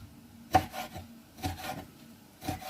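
Knife chopping bell pepper finely on a cutting board: three sharp, separate cuts spaced about a second apart, close by and moderately loud, with no talking.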